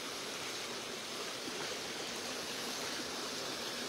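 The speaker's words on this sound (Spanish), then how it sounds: "Y simplemente el despertar y escuchar el agua." Water in a stream beside a cabin in the woods flows with a steady, dense rushing hiss that stays constant and fairly close, and no voices are heard.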